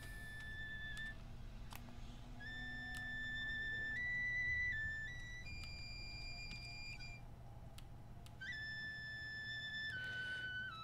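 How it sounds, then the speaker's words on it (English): A whistle in the video game Sekiro sounds as a series of clear, held electronic-like tones that step between pitches in short phrases over a faint steady background hum, with no talking. "Dang whistle."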